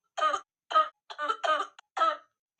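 A cartoon character coughs and clears its throat in a rapid series of about six short, close, loud bursts with brief gaps between them.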